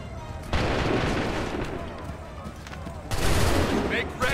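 Musket volleys in the video game Assassin's Creed 3, two loud, dense bursts of massed gunfire, the second starting after a short lull, each with a long rumbling tail.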